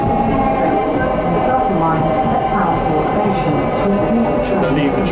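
A Docklands Light Railway train rumbles steadily along the track with a continuous low drone and faint rhythmic clatter, with some voices murmuring in the background.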